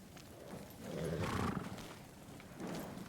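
A horse neighs in the video game Ghost of Tsushima, a fairly loud whinny rising once and fading, with a second softer call near the end and no talk.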